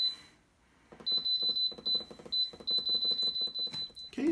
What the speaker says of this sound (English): it just beeped and went to on